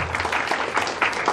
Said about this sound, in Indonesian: Tepuk tangan buat Bubu Okis